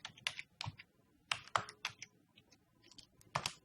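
Computer keyboard typing while code is entered, a quiet run of irregular key clicks in short clustered bursts with brief pauses between, close and alone with no voices.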